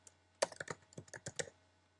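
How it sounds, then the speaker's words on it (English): Typing on a computer keyboard: a short run of about a dozen quick, close keystrokes in an uneven rhythm, faint and alone over a low hum, with no voices. "type in new category."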